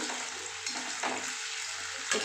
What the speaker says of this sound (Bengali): এক মিনিট ভেজে আমি পনিরটা উঠিয়ে নিচ্ছি